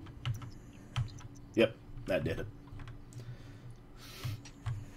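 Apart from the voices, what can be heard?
computer keyboard typing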